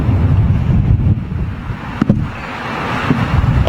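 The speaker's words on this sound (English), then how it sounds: "I think I've got a bit of wind underneath me" Strong crosswind buffets the microphone at London Heathrow Airport, a loud continuous low roar with gusty swells throughout, no voices present.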